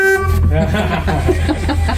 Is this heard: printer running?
no